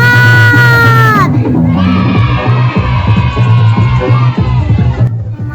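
Riders scream and shout together on a wave carousel ride at a night market, a loud excited crowd of voices rising and falling over fairground noise, after a short burst of music at the start.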